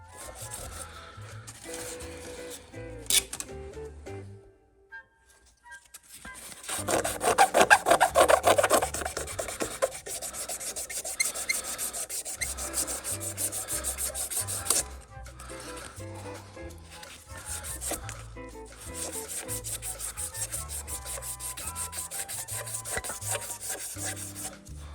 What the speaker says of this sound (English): now I'm going to sand this little piece here